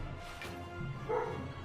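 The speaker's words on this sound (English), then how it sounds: "Apologies for the dog." A dog barks in the background, a couple of short, faint woofs, with no speech over them.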